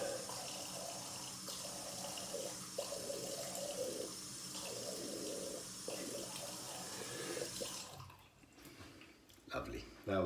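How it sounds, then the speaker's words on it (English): Cold water runs from a tap into a sink for an after-shave rinse, a steady close rushing hiss with faint splashes, before the flow cuts off and a few drips and clunks follow. "Got a cold water rinse down here."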